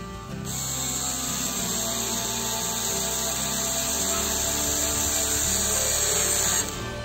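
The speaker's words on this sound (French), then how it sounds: "là je viens visser le tasseau par le dessous" A power screwdriver drives a screw up into a wooden batten from below in a campervan, whirring with a steady, high, continuous whine that shifts slightly under load as the screw bites, loud and close before stopping abruptly.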